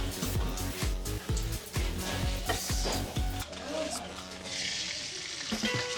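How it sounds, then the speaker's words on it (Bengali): An egg fries in a busy college canteen kitchen, its sizzling hiss under a run of sharp clattering knocks, then a smoother, steadier sizzle in the second half. "ডিম ভাজা হচ্ছে"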